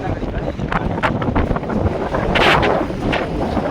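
Strong gusting wind roars across the microphone out on open water, a loud continuous rush with waves underneath and faint voices mixed in.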